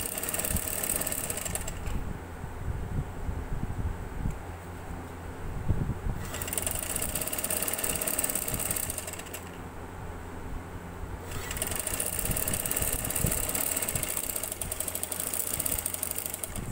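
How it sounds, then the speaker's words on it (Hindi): A sewing machine runs steadily as it double-stitches piping onto a garment neckline, producing a continuous close mechanical whir with slight shifts in texture and no pauses. "सिलाई लगाएंगे कि हमें महसूस नहीं होगा कि ये हमने डबल सिलाई लगाई हुई है।"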